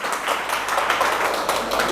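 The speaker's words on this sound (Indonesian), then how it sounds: "Kita aplaus untuk Mbak Putri Erika ya" A short burst of audience clapping in a teaching session, a small crowd's hands beating in a dense, even patter for about two seconds with no talk over it.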